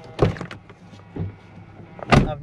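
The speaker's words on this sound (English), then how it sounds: "I've never heard buzzing from a Jeep door." Buzzing and mechanical clunks from a Jeep door at a dealer auction, three separate short bursts at close range, the last the loudest, with a faint hum between them.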